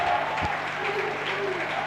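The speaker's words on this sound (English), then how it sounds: "to the applause of this stadium here in Leganés." A rugby stadium crowd in Leganés applauds during Georgia v Portugal in the Rugby Europe Championship, a steady wash of clapping with a commentator's voice faintly over it.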